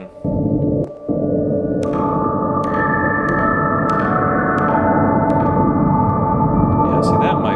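A Waldorf Blofeld synthesizer plays sustained dark tones with heavy reverb: layered droning notes enter one after another, each with a soft attack and long washing tail, building into a dense, continuous, fairly loud pad with no speech.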